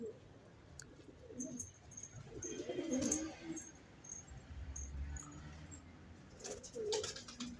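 Domestic pigeons in a coop give soft, low cooing calls in a few separate bouts, with light rustling and faint chirps between them, fairly quiet and close.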